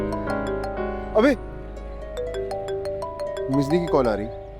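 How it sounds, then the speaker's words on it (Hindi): A phone rings with an incoming call, its repeating electronic melody of bright tones running steadily throughout, while voices briefly cut in partway through and again near the end. "मिजदी की कॉल आ रही।"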